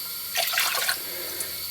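Water, about 500 ml, is poured from a jug into a cooking pot for boiling noodles in a home kitchen, giving a short splashing rush that fades into steady background hiss.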